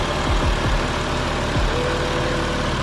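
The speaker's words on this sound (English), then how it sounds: "The 1JZ is idling and running significantly smoother as to be expected." Toyota 1JZ inline-six idling in a JZX100 Mark II after a spark plug and oil change, a steady, smooth close-up engine hum with a few low rumbles early on.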